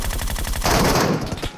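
Rapid automatic gunfire in the Metro Royale video game, shots coming through a wall, a steady burst of quick cracks that swells into a dense loud volley before tailing off.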